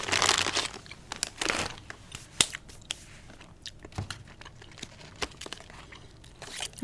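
Crinkling and crumpling of a chewing gum wrapper in a hospital ICU setting, a series of close, crisp rustles and sharp crackles with short pauses between them.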